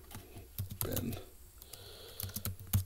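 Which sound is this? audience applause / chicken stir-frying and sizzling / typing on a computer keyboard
typing on a computer keyboard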